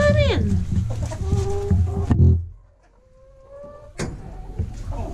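Buff Orpington hens cluck and squawk close by in a backyard coop, loud rising calls followed by a quieter pause and then more clucking, with someone speaking briefly.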